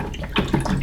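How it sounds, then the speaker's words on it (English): A paintbrush swishes and splashes briefly in a water jar during a landscape painting session, a quick close burst of sloshing. "Rinse out that brush,"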